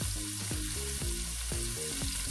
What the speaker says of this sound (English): Now what I'm going to add here is some onions. I'm adding onions in